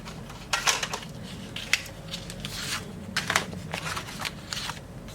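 Scissors cutting through painted paper for a mixed-media background, giving a series of crisp snipping and crinkling bursts at an uneven pace, close and moderately loud throughout.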